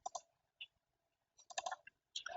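A few quiet, crisp clicks come in small clusters with short pauses between them, like a computer mouse being clicked on an upload button in a quiet room.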